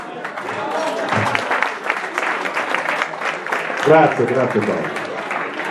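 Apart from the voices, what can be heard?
audience applause at an assembly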